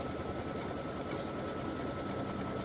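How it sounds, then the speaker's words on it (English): An embroidery machine stitching the pink placement line of a Valentine heart applique, a faint, rapid, even mechanical chatter running without pause. "so it's going to stitch the placement line."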